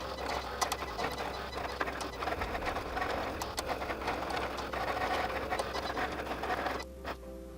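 A Cricut cutting machine slices glitter vinyl with a continuous mechanical whirring and scratchy ticking of the moving blade carriage, close and steady, winding down near the end.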